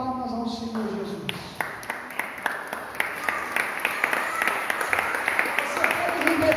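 A church congregation claps in a steady, even rhythm that grows denser and louder, while a preacher's voice carries over the clapping.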